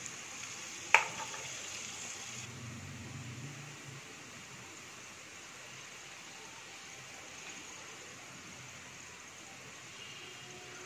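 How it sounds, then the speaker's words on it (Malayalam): Onions sauté with salt in a pan, giving a faint, even hiss of frying that runs throughout, with one sharp click near the start and a brief low rumble early on. "അല്പം ഉപ്പ് ചേർത്ത് നമുക്ക് ഉള്ളി വഴറ്റിയെടുക്കാം"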